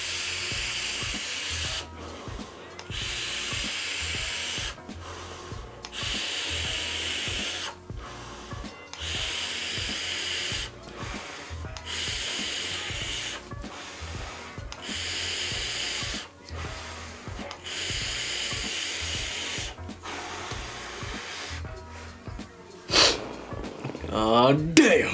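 Long drawn inhales through a Wotofo Profile Unity RTA with the airflow fully open come as repeated airy hissing pulls separated by short pauses, with a louder burst of sound near the end.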